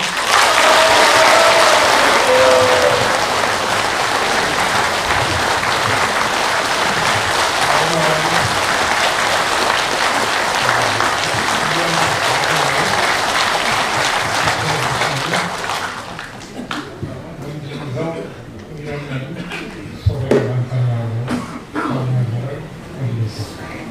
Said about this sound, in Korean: 우리 회장님 나오실 때 우리와 같은 박수를 부탁드리겠습니다